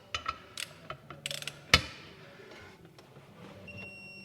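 A torque wrench ratcheting on Wilwood disc brake parts in a car build, a few quick mechanical clicks and bursts followed by a sharp metallic clack, close and fairly quiet, with no talk.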